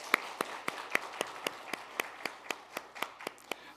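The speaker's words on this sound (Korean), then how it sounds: "박수하겠습니다." Church congregation giving a round of applause during a Sunday service, a few clearly separated claps in an even rhythm, close and crisp, with no talking over them.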